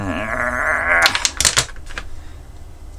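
Scissors snipping through a strand of hot glue gun glue during a DIY plug adaptor build, a few sharp close clicks and cuts after a short stretch of whirring, humming noise.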